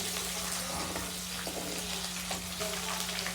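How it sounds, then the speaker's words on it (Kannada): Green chilies fry in a pan for upma, giving a steady crackling sizzle with occasional stirring scrapes, close and unbroken, with no talking. "ನಾನು ಹಾಕಿದ್ದೇನೆ ಮೆಣಸಿನ್ಕಾಯಿ. ಅದನ್ನು ಚೆನ್ನಾಗಿ ಬಾಡಿಸ್ಕೊಂಡ್ಬಿಡೋಣ."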